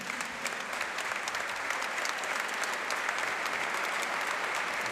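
Audience applause at a tribute to Xavier Alberola from the world of Valencian pilota, a steady, dense clapping from a full room that holds at an even level throughout, with no voices over it.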